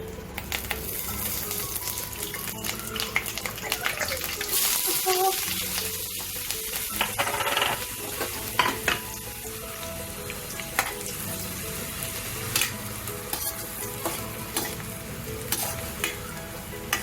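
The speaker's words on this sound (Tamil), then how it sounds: "இப்போ எண்ணெய் காஞ்சதும் வெங்காயம் கருவேப்பிலை போட்டுக்கலாம்." Onion and curry leaves fry in hot oil, making a steady, continuous sizzle with occasional scrapes of stirring throughout, close and unbroken, with no voices.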